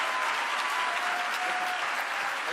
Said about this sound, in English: give him, a legend, a round of applause as he joins our stage